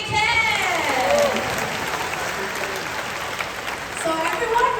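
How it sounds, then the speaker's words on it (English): An audience at a Singapore bird park show applauds steadily throughout, a broad wash of clapping with a voice heard over it at the start. "Can we give Quincy a big hand?"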